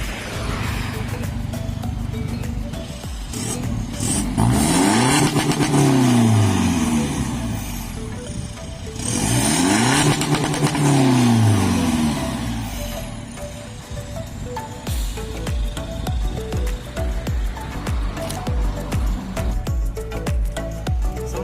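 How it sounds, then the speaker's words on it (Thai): A 1.9 car engine with a stage 2 remap revs up twice in long rising and falling sweeps, then settles into a rough, steady idle, loud and close throughout. "นี่เราจะพาไปดู รอบรถกันครับ"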